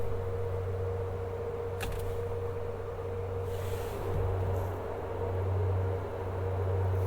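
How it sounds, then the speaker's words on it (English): Ventilated cooling seat fan in a 2022 BMW i4 eDrive40, a steady low droning hum with faint whooshing airflow that swells slightly now and then, running alone inside the quiet cabin. "I have never heard or felt a more aggressive cooling seat."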